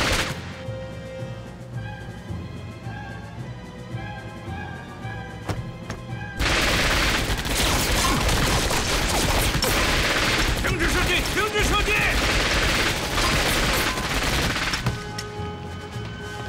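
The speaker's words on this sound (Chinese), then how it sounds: "停止射击！" Heavy gunfire from a war drama shootout erupts in a loud, dense burst lasting several seconds, following a stretch of quieter dialogue and tense background sound.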